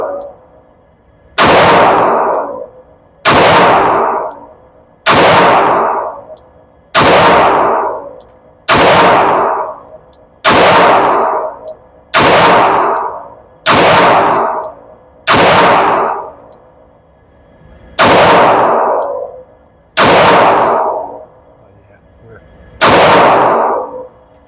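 Pistol shots ring out on steel targets at an outdoor range, with a dozen loud, evenly spaced reports, each followed by a sharp metallic clang and a fading ring.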